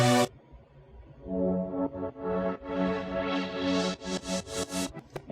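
Two stacked synth chord layers from an electronic track's drop play together, sustained bright pads with stabbing rhythmic re-triggers building through the bar, loud and close with no voices.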